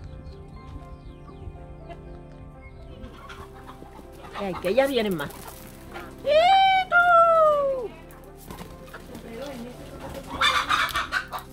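Chickens with bare necks on a farm in Colombia, giving a few clucks and squawking calls that rise and fall, with a drawn-out cackle midway, close by, with people talking at the start and end.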